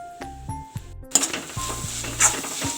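Chopped tomatoes sauté in a pan for fish keema, with a soft sizzle swelling halfway through as a spoon stirs and clinks against the pan a few times, close by.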